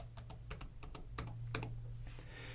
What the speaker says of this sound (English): you can even click Switch to PIN here and then type your PIN instead